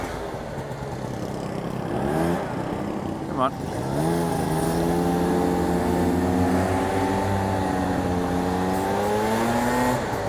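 Yamaha BWS 50 scooter with Stage6 power upgrades revving and accelerating while weaving through traffic, a steady rising engine drone with a brief dip, close and loud under wind noise, with a short spoken remark.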